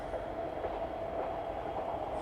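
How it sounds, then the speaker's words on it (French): RER commuter train arriving at the Cergy station, a steady rumbling rail roar with a sustained tonal hum and faint wheel clatter throughout, close and continuous with no voices. "C'est une arrivée à Cergy, une arrivée par le RER, qui est le moyen de transport des habitants de la ville, d'Annie Ernaux"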